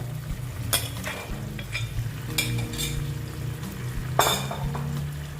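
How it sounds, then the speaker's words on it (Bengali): Pointed gourds tossed into hot oil for a mouri potol dish and stirred with a utensil, giving soft frying hiss under repeated scraping and clinking strokes against the pan at close range. "এবার আমি পটলগুলো দিয়ে দিচ্ছি দেখো"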